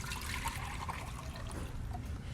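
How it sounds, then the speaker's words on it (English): Creamy tart filling poured from a bowl into a pan, a steady, close, continuous liquid pouring and trickling with no talk. "I'm just gonna take all of this and I'm gonna pour it into my pan."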